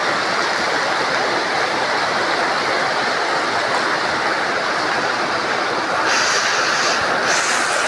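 Steady rushing of a small river flowing over rocks on a rainy evening in Kidapawan, continuous and fairly close, with a brighter splashing burst near the end.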